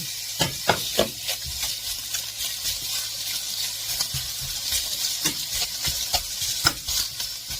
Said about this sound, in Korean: 좀 뜨겁게 달군 냄비에다가 먼저 돼지고기를 넣어주세요.